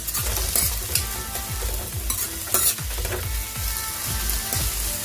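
Chopped spring onions fry for manchurian in a hot pan, giving a dense continuous sizzle with a steady rhythm of stirring strokes and occasional louder pops close by.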